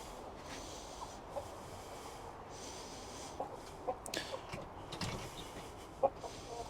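Hens give soft, scattered clucks inside a coop against a quiet background, with a few louder calls toward the end.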